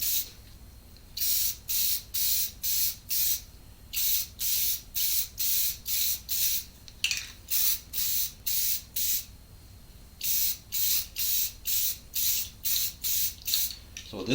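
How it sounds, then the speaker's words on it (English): Clear coat sprayed from an aerosol can onto fire and smoke tabletop terrain, heard as about nineteen short hissing bursts in a steady pulsing rhythm, loud and close, with no talking. "you can take the clear coat. Kind of do the same thing, hit the bottom."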